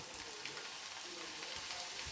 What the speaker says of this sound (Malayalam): കുറച്ച് വെളിച്ചെണ്ണ ഒഴിച്ച് കുറേശ്ശെയായി ഉരുളൻകിഴങ്ങ് ഇട്ട്